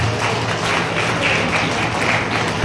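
Applause for students at an award ceremony, a steady patter of many hands clapping indoors at moderate volume for a few seconds.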